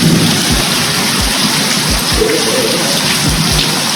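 Heavy rain pours steadily in a thunderstorm at a house in Portugal, with repeated low thumps and rumbles of thunder breaking through the constant hiss of the downpour.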